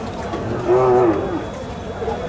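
A single cow moos once at a rural cattle market selling local bulls, a clear mid-length low call rising over steady crowd murmur and background talk.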